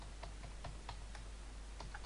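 Keystrokes on a computer keyboard while a Windows Server 2012 R2 domain is entered, a steady run of light, quick taps over a constant hum, with no talking.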